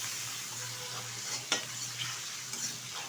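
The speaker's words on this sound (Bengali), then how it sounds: "মশলাটা ভালোভাবে কষিয়ে নেব।" Spice masala with a little chopped coriander leaf being stir-fried in a pan for a yogurt-and-eggplant dish: a steady close sizzle with a sharp scrape of the spatula partway through and a few lighter clicks, no voices.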